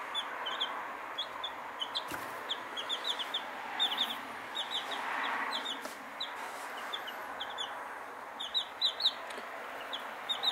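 Young roosters and chicks in a small flock make repeated high chirps and clucks over a steady hiss of background noise, close and fairly faint.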